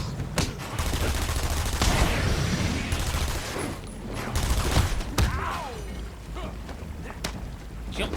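Bursts of gunfire and impacts crackle in a Batman Arkham Asylum fight, loud and dense, with rapid shots, sharp cracks and rumbling effects layered over the action.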